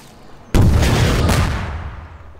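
A rocket launcher explosion in a video game, one sudden loud boom that rolls on as a long rumbling decay and slowly fades away.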